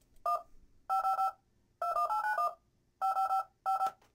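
Touch-tone telephone keypad tones generated in Adobe Audition 3.0, clean dual-pitch beeps in quick clustered runs separated by short silences, crisp and close with no other sound.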